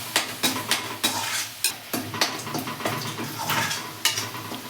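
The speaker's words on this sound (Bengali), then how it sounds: "কষাতে হবে ভালো করে।" Palak paneer masala being stir-fried with a little salt and water in a pan: close, rhythmic scrapes and knocks of a spatula against the metal recur every half second or so over a continuous wet sizzle.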